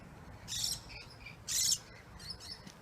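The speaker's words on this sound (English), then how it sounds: "There's a lot of bird life that comes out here too, which is really nice to see." Birds calling outdoors near Australian bush where cockatoos gather, with two louder high chirping bursts a second apart and fainter calls between, over a quiet background hum.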